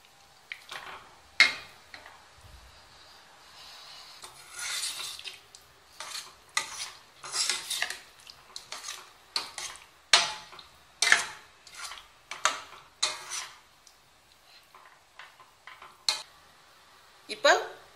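Boiled quail eggs stirred into a spicy egg thokku gravy in a pan, with irregular spoon clacks and scrapes against the metal over a faint, soft sizzle, close and fairly quiet.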